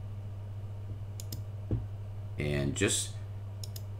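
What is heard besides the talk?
mouse clicks selecting the fastest mirrors in Manjaro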